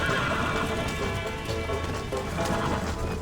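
A horse in the Red Dead Redemption video game neighs and clip-clops amid a dense, loud wash of rain-like noise, continuous and close throughout, with no talking.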